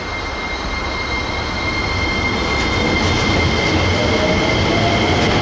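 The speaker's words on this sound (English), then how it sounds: "Local train with six cars." Six-car Keisei Line local train passing at a station, a loud continuous rumble of wheels on rails that builds steadily, with a high sustained squeal above it and no talk.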